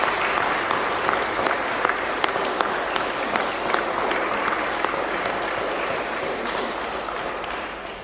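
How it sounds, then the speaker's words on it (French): A church congregation at a Sunday Mass in Yvoir applauds its jubilarians, a sustained full-room clapping that carries on evenly and tapers slightly at the close. "on peut encore une fois applaudir nos jubilaires"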